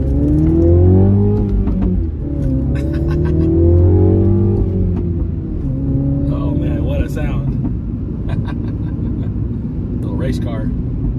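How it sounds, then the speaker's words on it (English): A little Mini Cooper drives along, its engine humming and revving through gear changes beneath steady road noise, with people talking over the car throughout. "we're having a blast in this little Mini Cooper"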